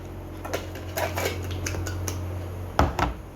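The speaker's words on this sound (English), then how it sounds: "give it a little mix" Cornstarch and water goop is stirred in a bowl with a utensil, giving light clinks and scrapes against the bowl, ending in two sharper knocks.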